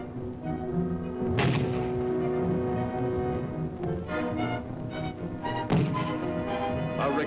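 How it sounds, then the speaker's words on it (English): A 60mm mortar fires in the field, two sharp, loud thumping blasts a few seconds apart, heard over a background of music-like tones. "The sights are aligned, and the 60mm begins its explosive attack."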